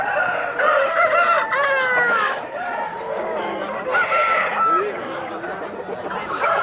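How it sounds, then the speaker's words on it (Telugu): Roosters crow repeatedly and hens cluck at a village country-chicken market in Pileru in the early morning, loud and close, with overlapping calls running under a steady murmur of voices. "6కే కోళ్ళు చూడొచ్చు మొత్తం ఎట్లా వచ్చినాయో."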